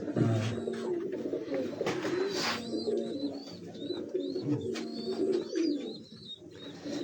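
Pure Kasuri pigeons coo softly on a rooftop loft, with low repeated calls over a busy background of other birds chirping.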